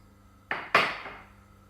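Chopped onion tipped into a pan of a little hot oil while making mushroom stuffing, giving two quick clattering hits followed by a bright sizzle that fades over about a second, close and without talk.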